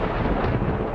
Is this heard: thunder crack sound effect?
yes